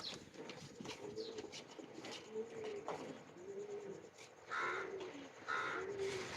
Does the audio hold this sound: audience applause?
no